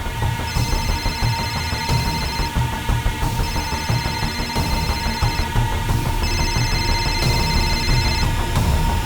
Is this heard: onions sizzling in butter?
no